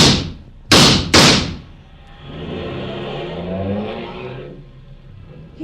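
In a 1950 radio crime drama, two loud door slams are followed by a car engine starting and accelerating away, its revving note rising and then fading into the distance.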